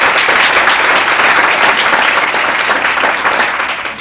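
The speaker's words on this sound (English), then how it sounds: "Let's give them a round of applause." Parents at a school orientation applaud three students seated on stage, a dense, steady burst of crowd clapping that tapers slightly toward the end.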